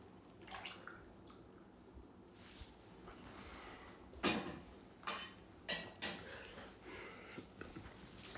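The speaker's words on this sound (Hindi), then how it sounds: "1 मिनट में ना पानी पी लेता हूँ, आप भी पी लीजिए।" Water drunk from a glass indoors: a few faint clinks of glass and soft swallowing sounds in a quiet room, with a louder knock partway through, no talking.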